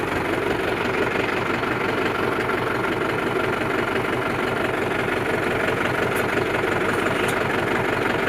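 A tractor engine idles steadily and loudly from up close, a continuous low rumbling throb with no breaks and no voices.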